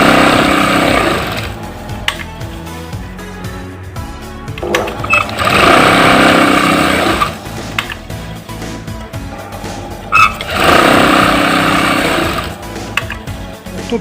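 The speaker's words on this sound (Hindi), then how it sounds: "मैं आपको अब सिलाई दिखाता हूँ" After a full repair and service, an umbrella sewing machine stitches in loud, close bursts of rapid mechanical clatter. There are three runs of a couple of seconds each, with quieter rattling pauses between them.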